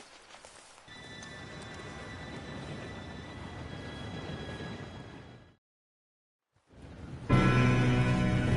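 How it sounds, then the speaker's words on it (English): A steam train approaching in the video game Red Dead Redemption 2: a long rumbling, clattering roar with whistle-like tones, cutting to silence, then returning with louder, bright mechanical noise. "Train should be here"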